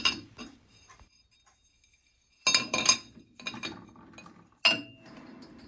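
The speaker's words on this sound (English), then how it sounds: "So now I need to reverse the sprocket in the chuck to machine the other half." A Kawasaki Z1 rear sprocket is repositioned in a lathe chuck, giving sharp metallic clinks and clanks in a few separate clusters with quiet gaps between them.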